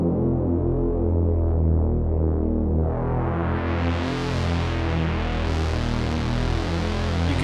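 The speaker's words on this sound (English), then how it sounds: "You can hear it, the pitch going up and down." Korg NTS-1 synthesizer playing a sustained tone as a triangle-wave LFO sweeps its pitch slowly up and down, loud and continuous with a thick, throbbing low end and no talking.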